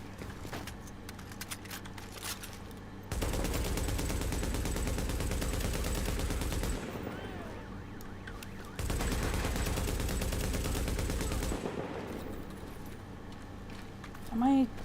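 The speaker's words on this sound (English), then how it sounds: "it's a burst fire MP5" An MP5 set to burst fire in a shooter game rattles off two long, loud stretches of rapid gunfire separated by quieter gaps.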